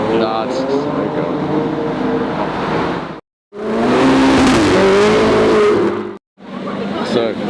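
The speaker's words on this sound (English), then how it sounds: "So we're gonna get a cold start." A supercar engine roaring at a cold start, loud sustained revving in segments separated by brief cuts to silence, with voices faintly mixed in.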